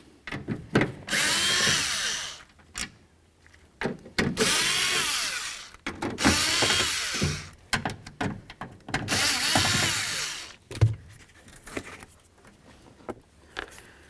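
A power drill zips out four speaker mounting bolts inside the door of a 1999–2007 Ford Super Duty F-250, several loud close bursts of whirring separated by pauses, clicks and handling noises.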